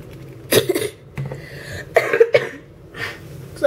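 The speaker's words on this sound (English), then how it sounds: "still have the cough" Someone coughs several times in short, close bursts, with brief pauses between the fits.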